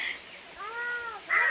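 A domestic cat gives a single clear, drawn-out meow at close range, preceded and followed by brief higher cries and light voices in the background.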